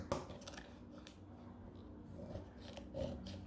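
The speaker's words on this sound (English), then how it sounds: "I'm going to cut off the extra first." Scissors snip away excess paper while a slinky greeting card is being made, giving a few soft, close cuts and rasping paper sounds at a moderate, uneven pace.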